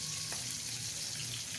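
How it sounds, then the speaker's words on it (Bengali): Katla fish frying in oil in a home kitchen, a steady close sizzle and hiss with no talk. "দেখো মাছটা ভাজা হয়ে গেছে"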